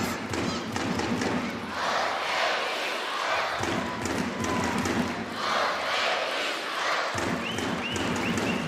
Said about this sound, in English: Crowd getting into it, screaming Uzbekistan